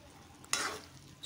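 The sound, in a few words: stirring jujube pickle frying in pan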